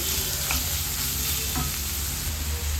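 Potatoes frying in a pan with turmeric and spices, a steady close sizzle with a couple of faint stirring clinks, no talking.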